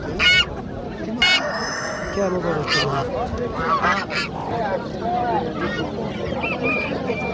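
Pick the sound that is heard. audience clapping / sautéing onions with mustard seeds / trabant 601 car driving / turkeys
turkeys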